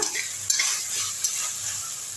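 Tomato sautéed with ginger garlic paste in a pan, a close, steady sizzle broken by a couple of sharp utensil scrapes, no talking.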